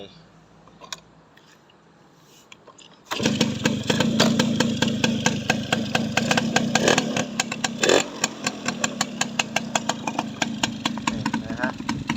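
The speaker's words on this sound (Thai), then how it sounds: "ฟังเสียงเครื่อง กันดูนะฮะ" A Yamaha Bell 100 motorcycle comes to life after a quiet start and settles into a loud, close idle with a fast, steady putter and occasional blips of throttle.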